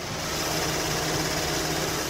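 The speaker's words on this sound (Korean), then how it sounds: "굉장히 정숙하고 규칙적인 엔진 사운드 들려주고 있고요" A Kia K9 sedan's 3.8 GDI engine idles with the hood open, a steady, quiet, even hum recorded close up with no talking.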